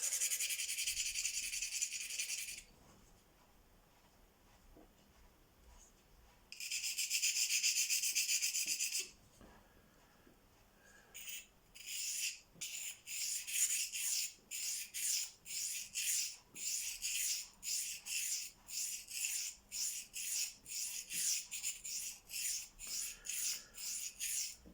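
A knife is sharpened on a new hand-held Venev diamond stone. Two long rasping passes come first, then a fast run of regular, even scraping strokes, close and fairly loud.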